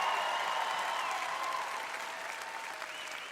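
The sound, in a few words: audience applause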